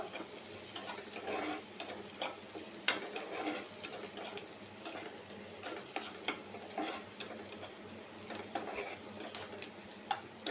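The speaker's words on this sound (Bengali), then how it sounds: "এই ফাঁকে আমি শুটকিটা বাগার দিয়ে নিব" Dried fish (shutki) tempering in oil in a clay pot: a continuous low crackle of frying with scattered small ticks and scraping stirs, moderately quiet and steady throughout.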